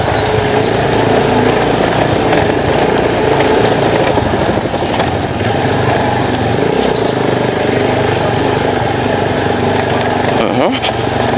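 A motorcycle with new swing arm bushings rides over a potholed road in Angeles, Pampanga, its engine droning loud and close without a break while the bike rattles and thumps over the bumps, with a rider talking over it.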